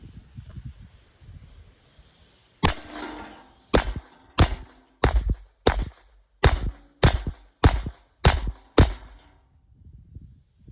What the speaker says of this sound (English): Let's go ahead and shoot these old kegs here.